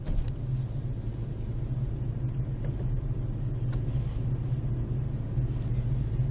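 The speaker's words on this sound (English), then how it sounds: "Alright, let's go for a drive." A car driving off on a hot day, a steady low engine rumble and road noise heard from inside, moderately quiet and continuous.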